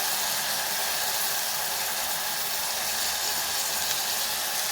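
Tomatoes sautéing in a hot pan for a yam curry, giving a steady, fairly loud sizzle and hiss that holds evenly throughout with no voices.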